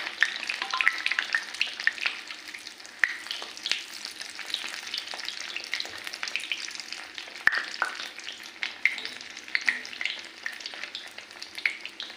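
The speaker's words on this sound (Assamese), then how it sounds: "জুইটো অকণ কমাই দিব, ধুনীয়া মছলাকৈ ভাজি থাকিব।" Bread pakora fries in oil over a lowered flame, giving a continuous crackling sizzle with scattered pops and sharp ticks, close and steady with no talking.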